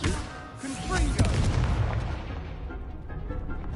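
A Confringo fire spell bursts in the video game Hogwarts Legacy. A loud, booming blast rumbles and crackles, then slowly fades under ongoing game sound.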